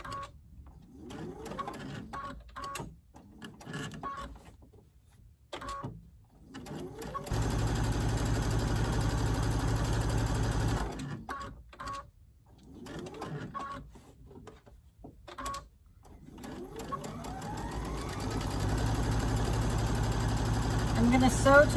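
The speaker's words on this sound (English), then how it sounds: "I'm going to sew till there's about a 2 inch space for turning and backstitch" A sewing machine stitches a seam on a fabric face mask in several bursts of steady, fast mechanical whirring, stopping and restarting between runs, with quiet handling noises in the pauses.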